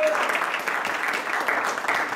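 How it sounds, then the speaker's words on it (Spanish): Church congregation clapping together during a Spanish-language sermon, a full, steady patter of many hands filling the room. "¿Cuántos le dan palmas a Dios,"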